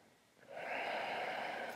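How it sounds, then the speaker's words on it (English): A single deep breath drawn slowly during a relaxing beginner yoga class, a soft, close breathy rush that begins faintly and holds steady to the end. "Stay for two more deep breaths."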